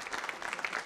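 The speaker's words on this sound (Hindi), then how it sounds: "तालियां जोरों से बजाइए इस जानकारी के लिए" Audience applause at a nursing college quiz show, a brief, steady patter of many hands clapping together at moderate volume, heard alone without talk.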